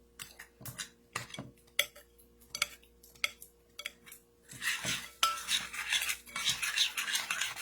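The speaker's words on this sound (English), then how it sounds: "Sorry about the tapping" A metal spoon taps and clinks repeatedly against a bowl while milk is stirred into a butter mixture, with sharp irregular knocks followed by denser scraping and stirring toward the end.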